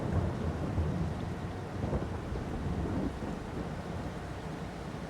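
Steady rain falls with low rolling thunder in the Farming Simulator video game during a corn harvest, a constant wash of sound with a deeper rumble swelling and fading, and no talking.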